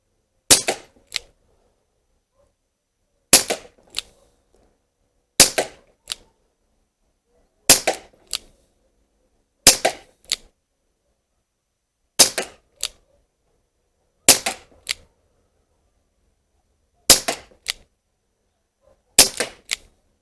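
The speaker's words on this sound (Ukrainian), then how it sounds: "Ну і потім буде контрольний відстріл по олімпійській мішені." An Umarex UX Tornado CO2 revolver fires at an Olympic target, sharp cracking shots in nine spaced bursts, each a loud crack followed by a quicker second report, with silence between.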